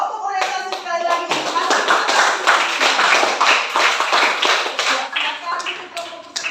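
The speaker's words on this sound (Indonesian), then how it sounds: "kita memberikan tepuk tangan kepada kelompok orientasi sekali lagi" In a classroom, students clap for a presenting group in a busy, uneven burst of many hands that lasts several seconds, with children's voices faintly mixed in.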